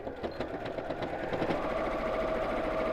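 A sewing machine runs a line of stitching across the top of a bag pocket, a fast even mechanical chatter at moderate level close by.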